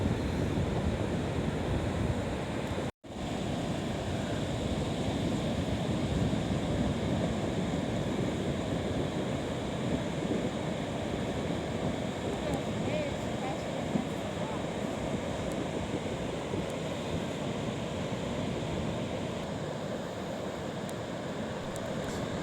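Ocean waves surge up a river mouth at the Mendocino headlands as the tide comes in, a continuous loud wash of surf and wind roar with one brief dropout.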